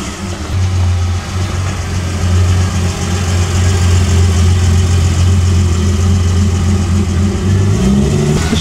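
Ferrari 250 short wheelbase classic car at a concours d'elegance gathering, its engine running loud and close with a steady low rumble and a rise in revs near the end.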